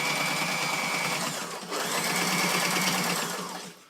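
A compact mini sewing machine with a walking foot, small enough to fit in a large briefcase, stitches slowly with a steady mechanical whir that dips briefly partway through, then resumes close and clear.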